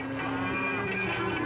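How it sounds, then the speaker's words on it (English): Herds of cows returning to their barns for the winter along the Pamir Highway mountain road in Tajikistan, with one drawn-out moo rising over a constant rumbling background. "His truck is slowed by numerous herds of cows returning to their barns for the winter"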